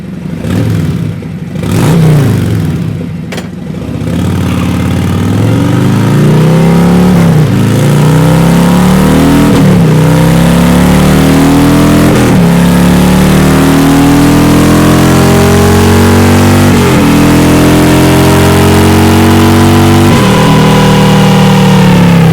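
Motorcycle fitted with Vance & Hines Torquer 450 mufflers revs on a dyno, a loud, sustained engine roar after a brief blip, with repeated rising and falling throttle sweeps and no talking.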